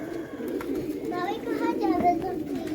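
Pigeons coo in soft, repeated throaty calls over a steady background murmur, fairly close and moderate in level.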